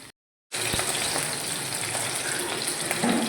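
Two chicken pieces sit in hot water in a wok for stock, giving a steady close bubbling hiss with faint clinks after a short silent start.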